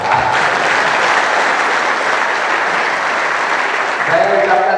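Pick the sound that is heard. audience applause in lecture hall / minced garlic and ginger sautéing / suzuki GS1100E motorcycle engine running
audience applause in lecture hall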